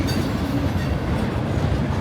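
A train rolls past on railroad tracks in an urban warehouse district, a loud, steady rumble with wheel and rail noise filling the whole stretch and no voices.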